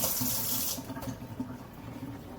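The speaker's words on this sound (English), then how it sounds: "What I'm going to do now is to get my hands washed thoroughly." Tap water gushes loudly into a sink during handwashing, then the stream drops to quieter splashing and trickling as hands move under it.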